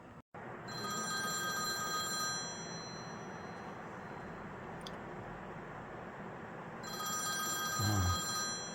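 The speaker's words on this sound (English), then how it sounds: "American Electric Oak Phone." An antique American Electric oak wall telephone rings its electric bell in two bursts, a steady metallic trill at the start and again near the end, with a quiet hum between.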